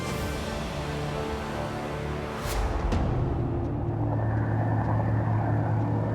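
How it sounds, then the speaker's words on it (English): Helicopter passing over a harbour near a refitted warship, a steady low rotor drone that swells louder partway through and holds, with a sharp transient just before the rise. "they're not going to come in until that helicopter disappears"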